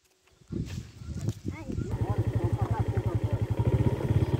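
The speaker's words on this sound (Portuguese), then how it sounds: "Eu vou deixar a moto aí" A motorcycle engine idles close by on a rural family outing, ticking along in a steady rapid putter that grows slightly louder, with a person talking at the start.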